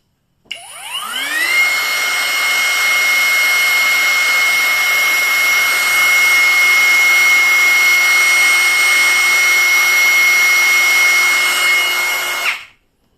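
A BULL brushless trimmer at speed 4, around 21,000 rpm, spins up quickly into a loud, steady high-pitched whine that holds for about twelve seconds before cutting off.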